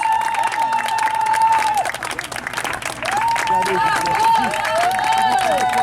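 An audience claps in a steady patter at a community event in Leogane, moderately loud, while a voice talks over it and a whistling tone sounds above.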